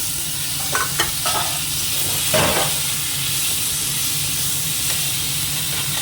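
Green chillies sizzle and fry in a pan while a spoon stirs them, making a few scraping clinks over a constant close hiss of hot oil.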